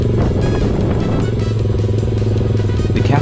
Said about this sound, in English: Cafe Racer Custom GPX Legend Gentleman 200 is a classic motorcycle